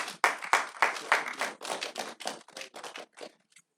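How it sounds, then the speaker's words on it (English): At a university business competition launch, a small group of people claps in sharp, distinct strokes that slowly grow thinner and quieter before dying away. "Round of applause."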